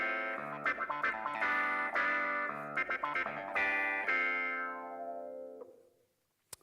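Yamaha DSP distortion effect processing a sustained, heavily harmonic tone with stuttering chopped bursts, then a long fading tail into near silence and a brief final click.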